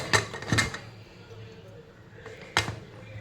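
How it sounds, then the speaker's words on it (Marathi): A pressure cooker lid set onto the pot while chicken pulao cooks, giving a few sharp metallic clanks near the start and another near the end, close and fairly loud over faint kitchen background. "कुकरचं झाकण लावून घ्यायचं आपल्याला"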